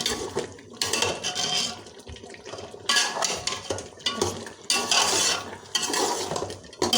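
Beef being roasted in ghee and stirred in a pot on the stove for beef dumchi gosht, with a metal spoon repeatedly scraping and clanking against the pan in loud bursts, with continuous sizzling between the strokes.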